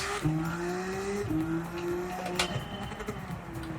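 A Subaru WRX STi in Gran Turismo 7, swapped to a 1000-horsepower Porsche 911 engine, revs hard through shifts, a steady tonal engine drone rising in pitch and stepping down at each gear change.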